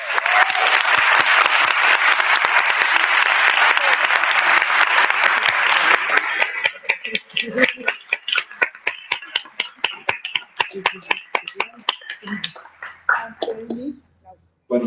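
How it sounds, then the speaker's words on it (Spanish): An audience at a psychology conference applauds, a dense loud burst of clapping for about six seconds that thins into scattered individual claps before dying out. "un aplauso, por favor"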